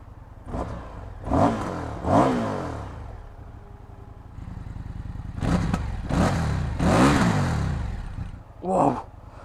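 An Indian FTR 1200S Race Replica motorcycle engine cranks and fires up, with several sharp revving bursts over a rumbling idle between them, heard close by.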